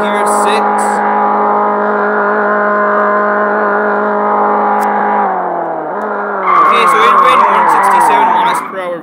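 Simulated car in the Extreme Car Driving Simulator game held at top speed in sixth gear, a loud steady engine drone that drops off, then a burst of tire skidding and squeal near the end; no one talks.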